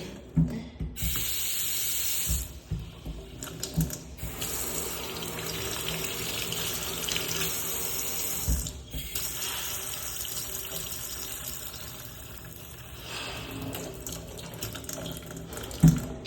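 Water runs from a tap in an apartment while the water heater is being checked, a steady hiss and splash that starts and stops several times at moderate, close level with no talking over it.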